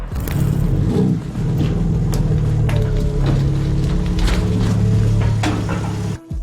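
A BMW M4 G82 on a Stage 2 tune runs with a loud, steady low engine rumble, overlaid with crackles and pops, before cutting out abruptly near the end.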